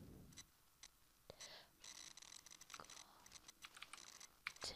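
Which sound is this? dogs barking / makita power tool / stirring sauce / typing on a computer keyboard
typing on a computer keyboard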